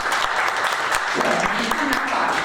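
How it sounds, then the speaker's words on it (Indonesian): A church congregation at a sermon breaks into sustained applause, dense and fairly loud, with scattered sharper claps and a voice rising briefly partway through. "Mau tepuk tangan buat Tuhan Yesus."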